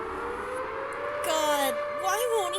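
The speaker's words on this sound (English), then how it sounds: "Here come the sirens." Wailing sirens in the video game We Know The Devil rise and fall loudly, with a long steady tone joined by sweeping pitch bends, while a voice speaks over them.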